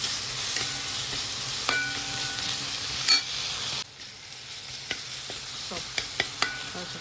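Finely chopped coriander and spices are stirred together in a frying pan, with a steady soft sizzle under repeated scraping and tapping of a utensil, quieter after the midpoint.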